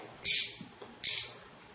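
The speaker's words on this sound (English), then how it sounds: "you're going to need a ratchet" A ratchet tightens a nut with a 5/16 socket on a stiff plastic GoPro mount, giving two short, sharp clicking bursts about a second apart, close and fairly quiet.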